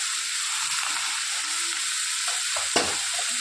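Vegetables for sweet corn paneer frying in masala in a pan, a loud continuous sizzle and hiss with a sharp stir or clink near the end.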